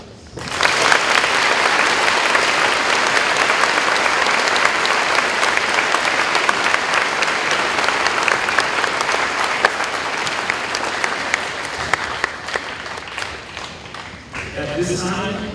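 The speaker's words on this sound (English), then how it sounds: "We'd like to offer you one more round of applause and gratitude for both your message and your service." Loud, sustained round of audience applause for a speaker at a high school Veterans Day program, dense steady clapping filling a large room, tapering slightly near the end as a voice begins.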